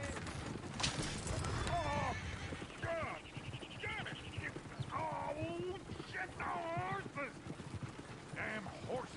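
Horse hooves clip-clopping in Red Dead Redemption 2, a steady plodding rhythm heard under ongoing talk, with a horse whinnying briefly among the voices.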